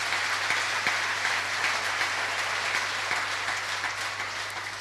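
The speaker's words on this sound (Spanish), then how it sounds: "Denle un fuerte aplauso al Señor Jesucristo." Steady congregation applause in a Spanish-language church service, a dense continuous roar of many hands clapping throughout, fairly loud and even, with no talking over it.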